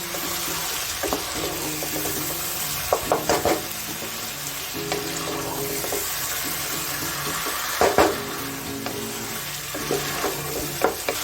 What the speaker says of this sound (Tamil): இப்போ இது கூட நல்லா இதை மிக்ஸ் பண்ணலாம்